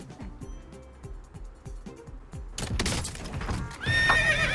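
A voice imitates a horse's neigh, a shrill wavering whinny rising at the end after rhythmic clopping thuds and a noisy burst, during Call of Duty: Warzone.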